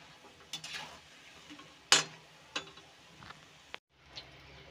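Small pakoras for kadhi fry in hot oil and are turned over repeatedly, giving a soft, low sizzle. Sharp scraping clinks of a utensil against the pan punctuate it irregularly.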